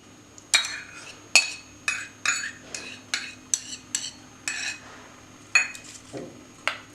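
A spoon clinks and scrapes steadily against a bowl while mashed banana is mixed with curd, with roughly a dozen close, bright knocks in an even rhythm.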